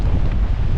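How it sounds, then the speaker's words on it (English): Strong wind buffets the microphone on an exposed hillside trail in the Scottish Highlands, a steady, loud low roar with gusty fluctuations throughout and no voices. "The wind's picked up."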